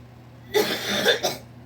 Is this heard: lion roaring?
no